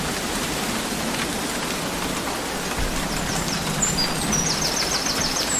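Heavy rain pours down steadily outdoors with a dense, even hiss, and faint bird calls chirp in the background toward the end.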